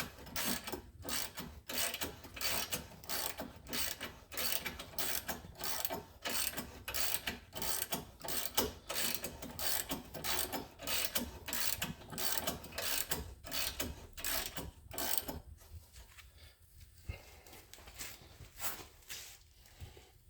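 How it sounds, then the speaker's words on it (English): A hand ratchet snugging caliper bracket bolts on a Buick Encore brake job, rapid regular clicking bursts repeating close up for most of the stretch, then quieter at the end. "All you do is grab your ratchet,"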